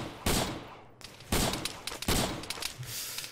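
Loud gunshots crack in ARMA 3's Vietnam campaign, three sharp separate reports spaced about a second apart, each trailing a short echoing tail, with no talk.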